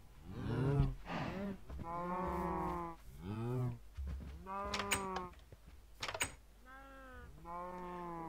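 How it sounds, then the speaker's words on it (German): Cattle in the Minecraft video game moo repeatedly in a series of drawn-out, loud calls, one after another, with no talk over them. "sind die Kuh auch noch hier rum?"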